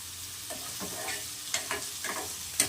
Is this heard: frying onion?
yes